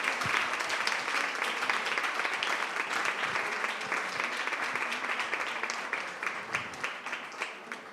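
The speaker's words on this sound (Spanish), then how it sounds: "Un aplauso para Synclinic." An audience at a regenerative gynaecology medical event applauding, a steady mid-level wash of many hands clapping that gradually thins and becomes more scattered toward the end.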